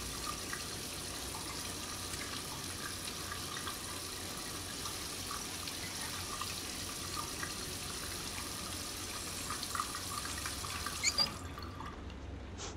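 Steady running water from a tap in a bathroom in the game Heavy Rain, a continuous low hiss and splash that stays even throughout and ends in a couple of faint knocks.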